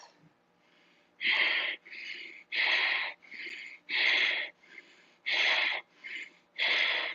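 During yoga twists, forceful pumping breaths through the nose come as about ten sharp, rhythmic bursts of air, evenly spaced and close, with no talking over them.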